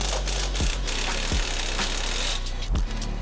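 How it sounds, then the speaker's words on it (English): A wrench removes the 18mm top shock nut and bolt on a Polaris RZR PRO XP4 Ultimate. Faint ratcheting clicks and a few sharp metallic knocks sound close up over steady background noise. "Remove the 18mm nut and bolt from the top of the shock."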